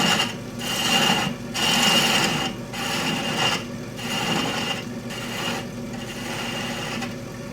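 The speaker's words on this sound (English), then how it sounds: "my way of doing it is to use a spindle gouge. And I cut to the diameter first." A spindle gouge cuts a tenon on spinning wood on a lathe, making a rasping, scraping hiss in repeated passes of about a second each, separated by brief pauses. No voices are heard.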